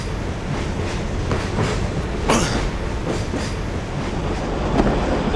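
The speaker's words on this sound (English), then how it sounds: "Milos is running the train" A train runs along its rails in The Last Express, a steady loud rumble with faint clickety-clack beats and a brief squeal of wheels near the middle, with no voices over it.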